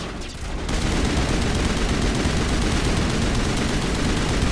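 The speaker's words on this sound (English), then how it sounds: "Only shooting time." Dense, sustained video game gunfire from Mass Effect 1, a loud continuous rattle of rapid shots that runs for about four seconds without a break.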